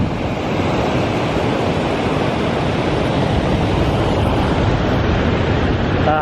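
Rushing snowmelt water along a Sierra Nevada trail on the Pacific Crest Trail, a loud, steady broadband roar that stays constant throughout, close by with no voices.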